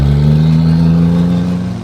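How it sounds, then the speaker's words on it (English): A hoodstacked Cummins diesel truck of over 1000 horsepower launches from a standstill on asphalt, its deep engine drone steady and loud and close throughout, with no talk over it. "Don't kill her, but let's see a little launch here"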